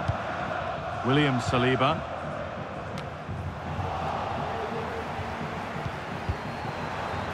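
Steady stadium crowd roar in the EA FC 25 football game, Manchester United against Arsenal, rising and falling at a distance under a commentator's speech.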